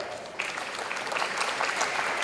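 A conference audience applauds steadily as a general manager is welcomed onto the stage at an international circular economy forum in Peru. The dense, continuous clapping swells and holds across the whole stretch.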